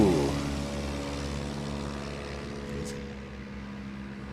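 A STOL propeller airplane on a takeoff run at a STOL practice event in Sulphur Springs, Texas, with a steady droning engine and prop roar that holds at a strong level and eases slightly as it moves away, with no talk.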